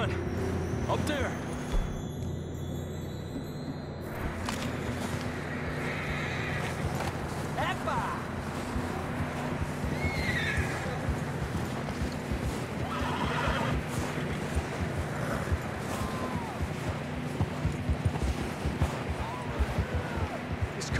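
In Red Dead Redemption 2, a horse whinnies loudly while hooves clip-clop beneath it, alongside spoken game dialogue and an ambient background bed.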